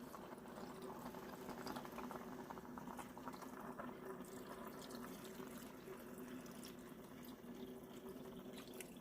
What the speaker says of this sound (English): I'm gonna put 2 cups of water in